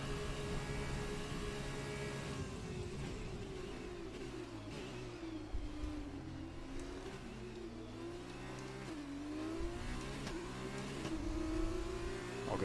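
An F2 race car engine in F1 2020 revs hard and climbs through the gears at Italy, then dips as it shifts. The steady loud whine rises and falls under the running car noise, with no voice.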